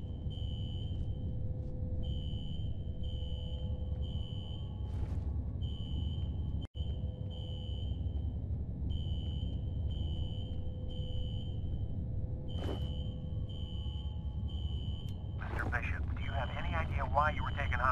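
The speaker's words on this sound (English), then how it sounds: "A fire alarm. It was triggered at a security office on that floor." A repeating electronic fire alarm beeps in steady bursts inside an office building in the F.E.A.R. video game, heard under a low steady hum with brief interruptions.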